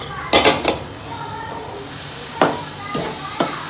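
A spoon clanks and scrapes against a kadhai while mashed bananas are stirred into semolina: a quick cluster of metallic knocks, a pause, then a few more spaced clinks, fairly close and moderately quiet.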